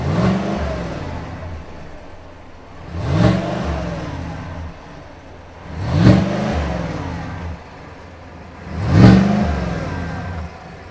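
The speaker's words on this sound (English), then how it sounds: "And in the middle, we have the 2024 Cadillac Escalade 600. Listen to that engine." A 2024 Cadillac Escalade 600 engine revs three times at regular intervals, each rev rising sharply to a loud peak and falling back to a steady idle, heard up close with no talking.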